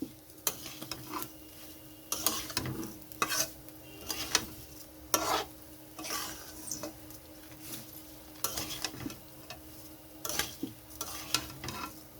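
Sweet pulao rice frying in oil with sugar is stirred in a pan, giving repeated scraping strokes over a steady close sizzle, with no talking.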